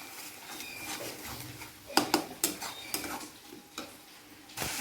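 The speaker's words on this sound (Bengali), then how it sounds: "এবার এর মধ্যে দিচ্ছি হলুদ দিয়ে মশলাটাকে ভালো করে কষবো।" Spiced masala with turmeric frying in a pan while being stirred, a steady soft sizzle broken by sharp scraping clacks of a spoon against the metal, close and fairly quiet with no talking.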